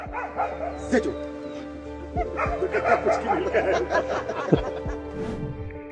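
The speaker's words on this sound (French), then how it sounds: "Regardez ce chien qui chasse un ours trop effronté." A dog barks and yips excitedly several times over a busy outdoor background, with people talking and laughing throughout.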